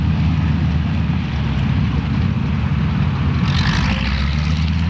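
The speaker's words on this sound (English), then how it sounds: "That's the power of 600 horsepower in these Harvards and the T6s" North American Harvard and T-6 aircraft, 600-horsepower engines, roar past at an airshow flypast, a loud, steady low rumble with wind buffeting and a brief brighter swell near the end.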